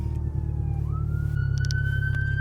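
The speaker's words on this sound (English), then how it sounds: "It's an ambulance." A steady wailing emergency siren with a long rising tone, loud and close, over a heavy rumbling engine.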